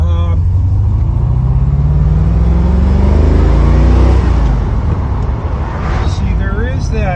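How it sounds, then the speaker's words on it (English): A Citroen C4 engine runs with a steady low drone while driving, its rough, uneven sputtering rising in pitch as it accelerates, with someone talking over it. "there is that little bit of sputtering still, or fluttering, or whatever you want it to call it"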